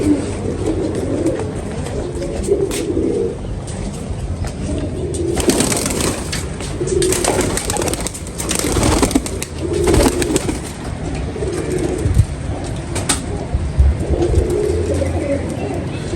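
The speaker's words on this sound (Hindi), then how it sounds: "ये है मेरे फिरोजपुरी कबूतर।" Ferozpuri pigeons coo in soft, low repeated calls amid busy background noise, with occasional louder broadband bursts passing through.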